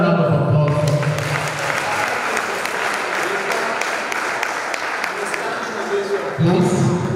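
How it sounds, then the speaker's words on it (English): Applause from a workshop audience fills the room, dense and steady throughout, with a louder surge near the end and some voices mixed underneath. "Please, why will give him a round of applause?"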